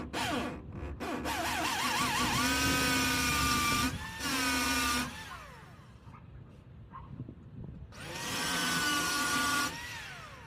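Power drill boring holes into a wall to mount a Ring doorbell, loud whining motor bursts with rising and falling pitch, two long runs separated by pauses and a final shorter burst, close up with no talking.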